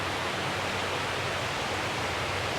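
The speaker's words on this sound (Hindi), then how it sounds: "जो पानी का जो शोर आ रहा है" Water flowing through an indoor recirculating canal in a planted building, a steady, even hiss of running water, soft and unbroken, with no other sounds.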